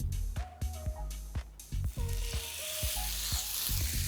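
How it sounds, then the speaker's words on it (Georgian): A pork steak of about 250 grams sizzling on a hot oiled grill, a continuous close hiss broken by repeated sharp clicks and knocks of handling. "ცოტა ზეთი ხორცსაც მოვასხათ და გადავიტანოთ გახურებულ გრილზე."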